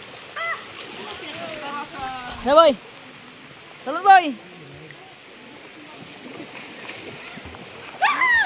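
Steady heavy rain hisses throughout, with a few short shouts and speech bursts over the downpour.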